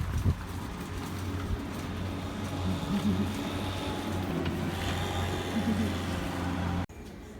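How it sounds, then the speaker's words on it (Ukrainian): A steady low engine rumble, like a tractor driving by nearby, continuous throughout with faint background noise. "Зараз він тут буде їхати"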